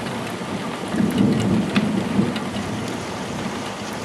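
A very electric thunderstorm in Sallanches, with steady rain hissing throughout and low thunder rumbling up in the middle before easing back under the downpour.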